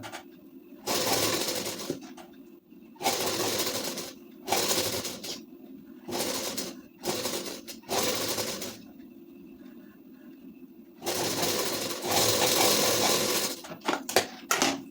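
A sewing machine stitches a strip onto a ladies' suit panel in repeated loud bursts of rapid whirring, separated by short pauses, close up with no talking.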